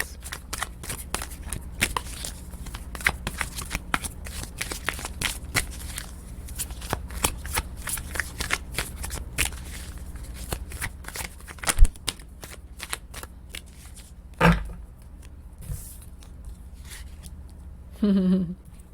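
Oracle and tarot cards are shuffled by hand at close range, a long run of crisp, quick riffling flicks and soft slaps, with a few louder card taps and rustles near the end.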